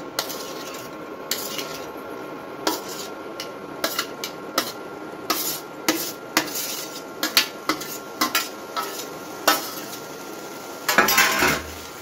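A utensil repeatedly scrapes and clinks against a pan while fried button mushrooms are stirred into a masala gravy, sharp irregular knocks over a low simmer, with a louder flurry of scraping near the end.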